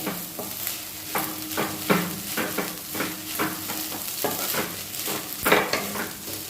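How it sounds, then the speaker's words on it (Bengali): Egg chicken chow mein seasoned with ground black pepper is stirred in a pan, giving a steady sizzle with repeated scraping strokes of the utensil close by. "গোলমরিচের গুঁড়ো দিলে না চাউমিনে একটা সুন্দর গন্ধ আসে খেতে তো অবভিয়াসলি ভালো হয় দিয়ে এটাকে একটু নাড়াচাড়া করবো"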